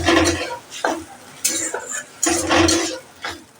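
Olive chutney being stirred in a pan, with repeated close scraping and clinking of a spoon against the metal in uneven bursts and a faint sizzle beneath, fairly loud and near.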